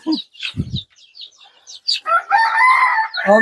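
Free-range desi chickens on an earthen floor cluck and squawk in short bursts, with a rooster's drawn-out crow rising near the end, close by and fairly loud.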